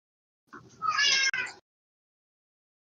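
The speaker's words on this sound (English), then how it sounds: "It's a cat. I heard that cat." A single drawn-out, agitated cat meow, loud and close, rises and then breaks off, with silence on either side.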